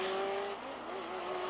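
Can-Am race cars at the 1984 Grand Prix de Trois-Rivières, 500-horsepower engines screaming at high revs in a dense, continuous roar with a steady rising and falling engine tone, loud and close throughout.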